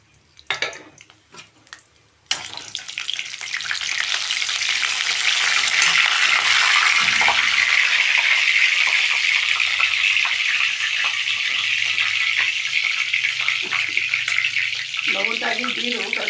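Dried red chillies and five-spice seeds hit hot oil and fry, a loud steady sizzle that starts abruptly after a few brief knocks and carries on for the rest of the clip, with a few low clatters near the end.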